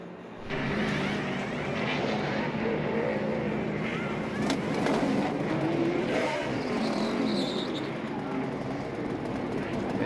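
A 2009 NASCAR race car engine runs roughly and unevenly with a serious fault amid loud, steady background rumble, with people talking over it.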